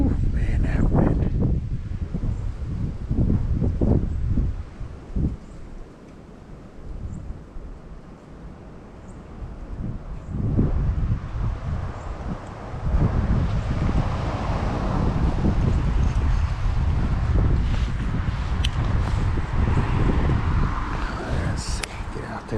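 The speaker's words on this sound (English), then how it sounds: "Ooh, man, that wind." Gusty wind at a winter creek buffeting the microphone, rising and falling in loud rumbling bursts with rustling, and a person talking briefly during it.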